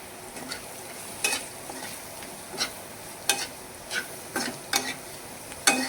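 Asafoetida, garam masala and red chili powder being stirred into hot oil in a pan, with repeated scraping spoon strokes at an irregular rhythm over a constant soft sizzle.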